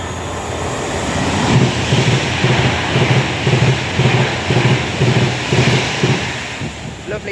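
A Pendolino train passes through Nuneaton station, a loud, steady rumble carrying a regular clatter of wheels over rail joints that swells and holds for the whole pass.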